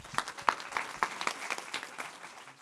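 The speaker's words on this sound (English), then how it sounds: "Let's give another round of applause for them." Applause for panel speakers at a regenerative development event, a thinner spatter of claps with a few distinct sharp hits, moderately faint and tapering off.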